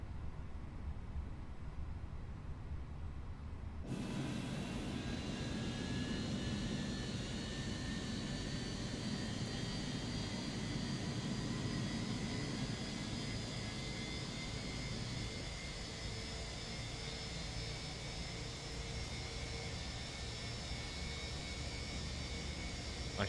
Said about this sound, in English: These IAE engines are one of my favorite sounds.